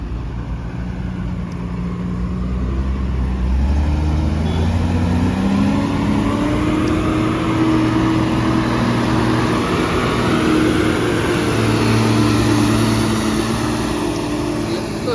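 Old-model Tata truck labouring up a dug dirt ramp, its engine droning low and steady with a slowly rising strain, loud and close throughout.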